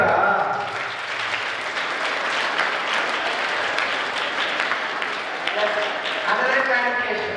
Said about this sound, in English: Claps kottara.